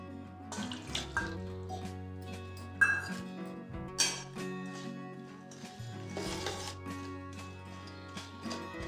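Water is poured from a cup into a metal pot holding jaggery in a home kitchen, a soft splashing pour with light clinks of the vessel, close and quiet with no talk.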